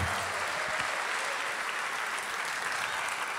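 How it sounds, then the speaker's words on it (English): A concert audience at St John's Smith Square applauds a chamber ensemble with dense, steady clapping that stays loud and even throughout. "Give them a big round of applause, please."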